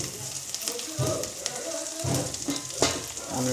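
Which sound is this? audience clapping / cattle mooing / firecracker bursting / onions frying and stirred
onions frying and stirred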